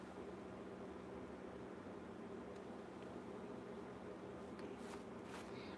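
An RV air conditioner runs on a warm day of just over 70 degrees, making a steady, quiet hum and whir that holds even throughout, with a faint rattle near the end and no talking over it.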